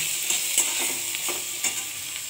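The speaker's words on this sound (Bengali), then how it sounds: "দেখুন ভাজাটা হচ্ছে," Cauliflower with black cumin, salt and turmeric sizzles steadily in a pan, with a few sharp scraping stirs of a spatula breaking through the constant frying hiss at close range.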